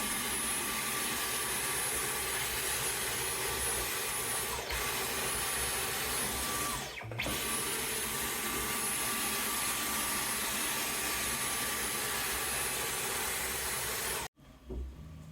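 Vacuum cleaner running steadily while cleaning out a stubborn wall crack before filler goes in, a close, loud continuous whirring hiss with a brief dip and surge midway, cutting off sharply near the end.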